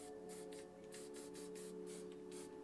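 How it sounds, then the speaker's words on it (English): A Kobra HP high-pressure spray paint can hisses in a series of short, faint bursts for spray-paint art, with quiet pauses between each spray. "Just have a spray there."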